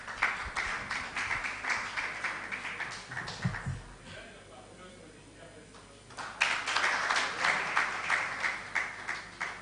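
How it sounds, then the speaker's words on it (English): A conference audience applauds at the end of a session, a burst of rhythmic clapping that dies down and then starts again, with speech heard between the bursts. "A round of applause as we have come to the end of the session."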